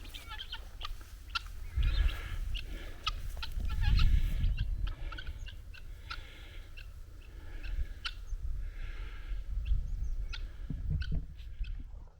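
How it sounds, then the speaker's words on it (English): Young turkeys cluck and peep on open chalk downland in South Wiltshire, a scattered flock of short calls over low wind rumble and footsteps, moderately close and without talk. "They're young turkeys, possibly."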